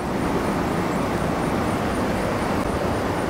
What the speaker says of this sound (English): Sorry about the noise of the fans running today.